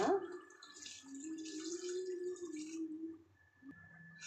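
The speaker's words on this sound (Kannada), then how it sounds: "ಒಂಚೂರು ನೀರು ಹಾಕೋಣ." Water pours steadily into a pressure cooker pot of Andhra-style dal with turmeric, coriander and cumin for about three seconds, a close trickling stream that tapers off.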